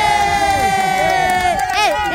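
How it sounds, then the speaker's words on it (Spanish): A crowd at an eating contest cheers and shouts in a loud, close burst, excited voices rising over one another with some rhythmic calls. "Aplausos para Gilo"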